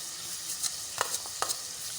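Spices with turmeric, cumin and dried red chillies sizzle in hot oil as they are added to roasted urad dal (mash ki daal), with a steady frying hiss and a few sharp spoon scrapes from stirring, no talk.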